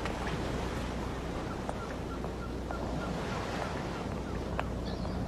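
Sea waves wash steadily against the shore at sunset under a red evening sky, a constant broad surf roar with wind buffeting the microphone and no voices.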